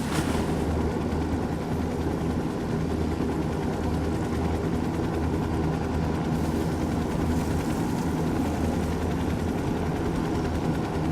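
An Apache helicopter's rotor thumps loudly and continuously close by in the video game Ghost Recon Wildlands, a dense, unbroken engine roar with no voices.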